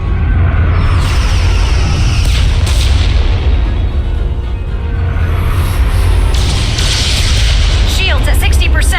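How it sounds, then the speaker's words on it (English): Starship phasers firing in the Star Trek: Resurgence video game: loud, booming energy blasts and whooshes over a rumbling battle din, with voices speaking over the barrage. "Fire phasers! Firing."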